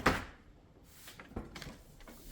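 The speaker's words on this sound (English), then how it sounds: "The way to do it is you simply open this left door here," Left door of a GE Cafe refrigerator swinging open, a short sharp seal release at the start followed by faint rattles and soft knocks close by, with no talking.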